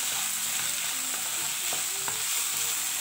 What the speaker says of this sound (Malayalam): ഇനി നമുക്ക് ഈ തക്കാളി ഇട്ട് കൊടുക്കാം.